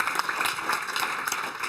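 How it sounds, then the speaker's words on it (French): Audience applause in a paddock setting at a race event, a dense steady patter of many hands clapping at moderate volume for the whole stretch with no break. "On vous applaudit encore très très fort."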